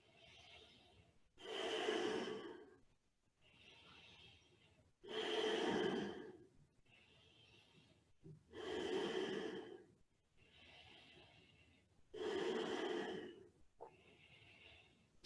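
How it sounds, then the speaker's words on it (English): Slow, deep breathing during Kundalini yoga, with long audible inhales alternating with fuller, louder exhales in an even rhythm, close and without talk. "Just long, deep breathing."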